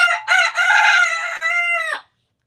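A rooster gives a single loud, close crow in several harmonic bursts lasting about two seconds, followed by silence.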